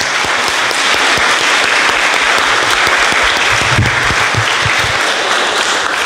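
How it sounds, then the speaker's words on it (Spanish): Loud, steady applause fills a congregation at a Sunday Mass for the children. Many hands clap continuously throughout, dense and close, with a faint murmur underneath. "Les regalamos un fuerte aplauso a estos niños."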